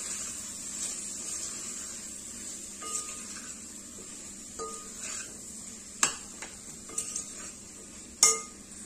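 A spoon stirs turmeric, red chili powder and kala masala in a pot for Khandeshi khichdi, making soft, sparse scrapes and a few sharp metallic clinks against a faint low sizzle, with no talk.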